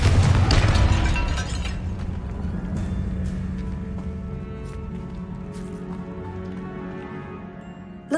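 A Confringo blast in Hogwarts Legacy: a deep booming explosion at the start that rumbles and decays slowly over several seconds, with scattered faint pops and clicks in the fading tail.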